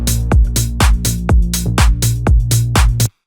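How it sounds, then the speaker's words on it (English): Deep house pluck bass locked with a drum groove, punchy and loud, repeating in a steady rhythmic pattern of short bass hits and kicks before stopping abruptly. "Together with the drums, the bass sounds like this."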